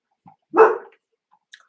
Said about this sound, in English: Dog again.